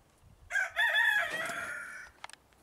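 A rooster crows once, loud and close, a drawn-out strained call lasting about a second and a half, followed by a few faint clucks.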